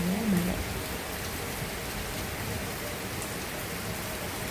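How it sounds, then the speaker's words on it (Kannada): Rain falls steadily in Udupi, a constant close patter of drops on surfaces that carries evenly from start to finish with no voices. "ಮಳೆ ಮಳೆ ಮಳೆ."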